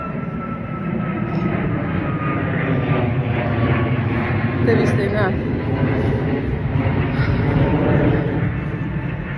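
An airplane passes overhead, a steady broad roar that holds loud through the whole stretch, with a person talking over it.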